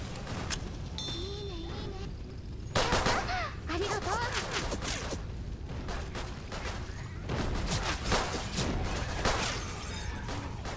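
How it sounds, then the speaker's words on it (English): Pistol shots crack repeatedly in a cooperative zombie shooter set in a Christmas-decorated mall, scattered single shots over a busy mix of game noise, shattering and cries, with players talking over it. "I hear pistols."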